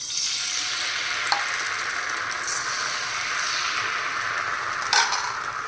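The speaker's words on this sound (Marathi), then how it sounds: "तेल पण चांगलं व्यवस्थित लावलं जातं. ते तेल लावून घेतलेलं आहे. आता आपण घावणं टाकायचं." Rice batter for traditional Konkan ghavan spread onto an oiled hot pan, giving a loud, steady sizzling hiss throughout with a couple of brief metallic clicks of a utensil, no talking.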